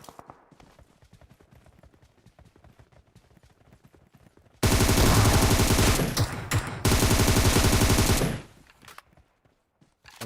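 Gunfire in PUBG Mobile: a sustained loud burst of rapid automatic shots after a quiet stretch, with a brief gap before the firing resumes, then it stops abruptly.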